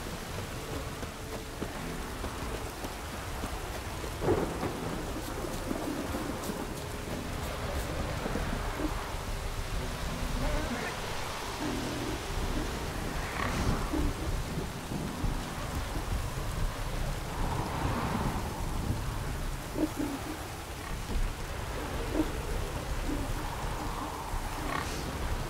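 Thunderstorm in The Witcher 3, steady heavy rain hissing throughout with low rumbling thunder swelling in the background, continuous and enveloping, with no speech.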